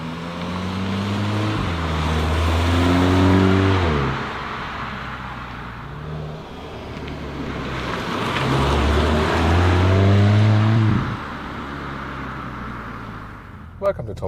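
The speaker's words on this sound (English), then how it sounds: "Sports Mode, and yeah, that accelerates quite well, doesn't it?" VW Golf 8 GTI (Mk8, 2021) accelerating hard in sports mode: engine note rising through the gears in two long pulls with shift breaks, heard from inside the car, with someone talking over it.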